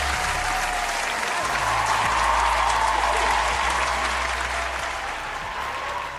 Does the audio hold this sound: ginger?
no